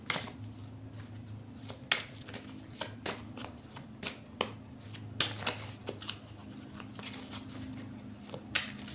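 Divination cards for a three-card spread are shuffled by hand, giving quick papery riffles and snaps in irregular bursts, fairly close and quiet over a low steady hum.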